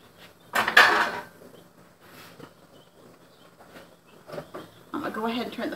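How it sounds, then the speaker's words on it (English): Pots, lids and jar rings clang and clatter in a kitchen during canning of chow-chow, with a sharp metallic burst early, lighter knocks later, and a voice speaking near the end. "Sorry about the clanging."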